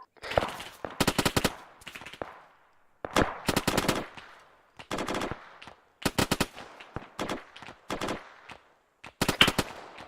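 Gunfire in the video game Arma 3, with repeated bursts of rapid rifle and machine gun fire separated by short pauses, loud and close, with no voices over it.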